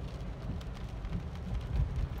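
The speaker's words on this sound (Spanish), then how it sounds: "Se ha venido la tormenta." Steady rain with low rumbling, likely thunder, from a storm outside a vehicle travelling to a wedding party, continuous and fairly loud with a heavier rumble near the end.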